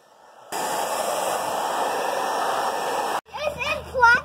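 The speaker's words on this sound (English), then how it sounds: "I'm gonna go get a hairdryer, kind of blow things off a bit" A hair dryer blows on frozen pipes with a steady, loud whoosh that runs for about three seconds and then cuts off abruptly, after which a voice speaks.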